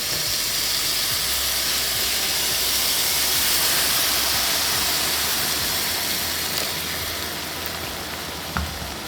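Stock poured over risotto rice in a hot pan, giving a loud, continuous steamy sizzle and hiss close by that holds steady throughout with a faint bump near the end.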